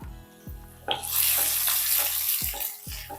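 Curry leaves and garlic hit hot oil for lemon pickle and burst into a loud, close sizzle about a second in, then crackle steadily, with a few light knocks of a utensil against the pan.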